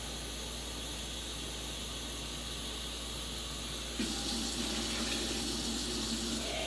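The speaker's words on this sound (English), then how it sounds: "I'm just putting water in the container" Tap water runs steadily into a bottle-like container in a kitchen, a continuous close hiss that shifts to a fuller, brighter gush partway through as the flow changes.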